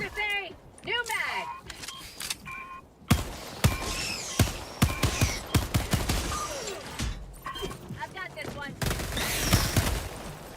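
Gunfire in the Helldivers 2 co-op shooter, a string of sharp bangs and rapid bursts through the middle and later stretches, with voices talking over the fighting.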